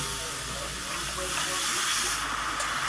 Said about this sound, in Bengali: সামান্য জল দিয়ে দিলাম জল দিয়ে মশলাটাকে কষিয়ে নেব